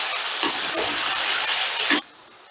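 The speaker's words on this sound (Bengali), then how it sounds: "এবারে দ্বিতীয় ব্যাচটাও ভেজে নিচ্ছি।" A second batch of chicken pieces frying in hot oil, giving a loud, dense sizzle with a couple of brief stirring bursts before it cuts off abruptly near the end.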